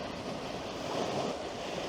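Sea waves wash against a Scottish shore at sunset in a steady, moderately loud roar of surf mixed with wind, without distinct breaks between waves.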